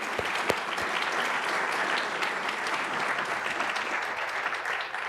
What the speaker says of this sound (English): Let's give all those folks who have helped us out a round of applause.